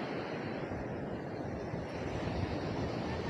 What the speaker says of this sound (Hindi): देखा जाउ समुद्र लहरी